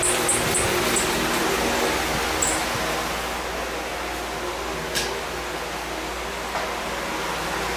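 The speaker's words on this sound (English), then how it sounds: "Sorry for the noise. He's got the fans going." Fans running in a house under renovation with textured walls being sprayed, a steady loud broadband rushing whoosh filling the room, with a few faint clicks and knocks.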